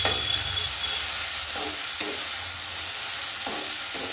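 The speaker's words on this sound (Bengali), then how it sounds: "বেশ কিছুক্ষণ নাড়াচাড়া করে নিচ্ছি।" Potato and kakrol slices frying with turmeric in a pan, a steady close sizzle with periodic scraping stirs of a spatula every second or so.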